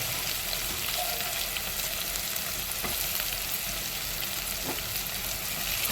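Ginger garlic paste sizzles with onions in a hot pan for a bitter gourd pulusu, a steady broadband crackle with a few soft stirring scrapes and no talk.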